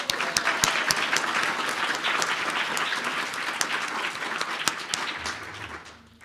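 Close, loud applause from an audience at an alcohol policy conference in Estonia, dense clapping with a few sharp individual claps standing out, fading near the end.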